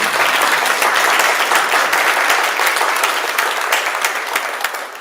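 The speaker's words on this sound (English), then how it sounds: "Please give them a big round of applause." A large audience claps loudly and steadily in a dense wash of applause that tapers off slightly toward the end.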